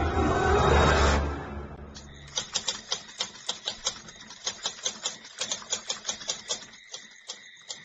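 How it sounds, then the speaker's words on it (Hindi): Typewriter keys clack in a quick, uneven run of sharp, close strikes, preceded by a voice speaking and a swelling rumble. "टाइपराइटर की बटन दबने की आवाज सुनाई दे रही थी।"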